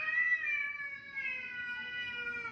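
A cat lets out a long, drawn-out meow, close and clear, stretching over two seconds with a wavering, slightly falling pitch and no talk over it.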